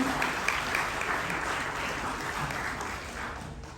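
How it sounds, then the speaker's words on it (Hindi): Audience applause for a guest at a motivational meet-and-greet talk in Jaipur, a steady wash of many hands clapping close by for the whole stretch, with faint voices underneath. "अक्षित जी के लिए एक बार जोरदार तालियां हो जाएं एवरीवन।"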